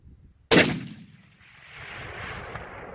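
Rifle shot fired at an elk during a Wyoming hunt: a single sharp, loud crack followed by a long rolling echo across open terrain.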